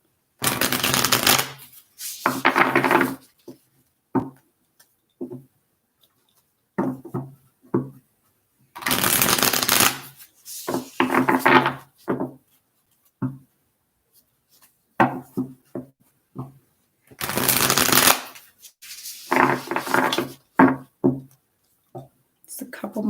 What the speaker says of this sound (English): Just a couple more shuffles here for Aries.